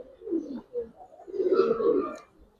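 A male racer pigeon gives a soft, low throaty coo in a few short bursts, ending in a longer rolling phrase, close and alone.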